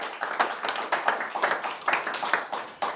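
A church congregation claps for Jesus in a brisk, steady rhythm, a close, lively ensemble of hands beating together for several seconds.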